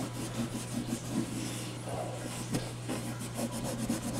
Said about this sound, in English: Scrub, scrub, scrub, scrub, scrub.